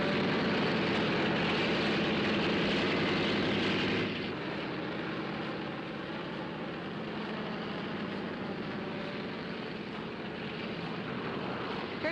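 Airplane engines drone steadily before takeoff in a 1940s setting, a continuous broad rumble that is louder at first, then drops to a lower, sustained hum for the rest of the time, with no voices.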